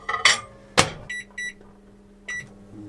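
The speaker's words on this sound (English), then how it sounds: "I'm going to give the microwave a test by cooking up a pie." A microwave oven inside a van heats a pie, giving a few sharp clicks and then a run of short electronic beeps, close and fairly quiet.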